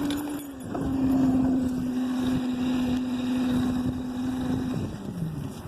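A motorcycle engine hums at a steady pitch while riding, with wind noise rushing over the microphone, then the tone drops away as the bike slows near the end.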